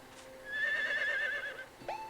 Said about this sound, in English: We have a hungry horse.